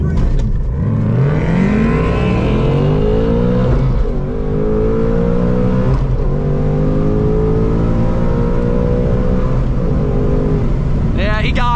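A Mustang Dark Horse launches hard at a drag race, its engine roaring and climbing in pitch through the gears, loud and close, with another engine note rising near the end and voices mixed underneath.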